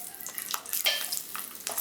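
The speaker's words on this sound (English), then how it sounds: "And now I'm going to fry the chili. I'm going to use 3 chilies and 2 garlic." Chili and garlic frying in a pan: a soft, continuous sizzle with brief hissing bursts as the three chilies and two garlic cloves hit the oil, close and alone without talk.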